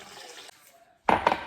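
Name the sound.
pouring liquid from measuring cup into mixer bowl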